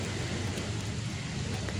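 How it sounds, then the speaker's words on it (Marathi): Steady monsoon rain in Mumbai hisses continuously, a dense, even wash of noise with no pauses and no voices. "आजकाल खूप कंटिन्युअसली पाऊस पडत आहे."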